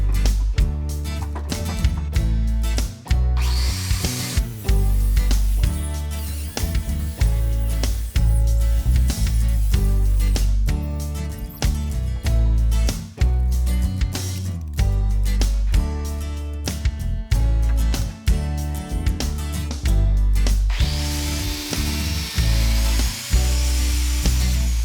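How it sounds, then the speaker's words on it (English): A biscuit joiner cuts slots into timber for a tabletop, its loud motor howling steadily while the blade bites into the wood in repeated short bursts, with brief pauses between cuts. "then I'll just line up the line on my biscuit cutter"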